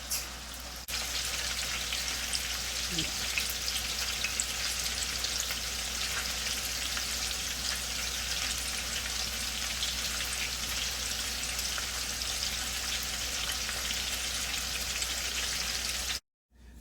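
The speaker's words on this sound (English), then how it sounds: "I'm done frying the salmon" Continuous crackling sizzle of salmon frying in a hot pan, close by and steady throughout, ending abruptly.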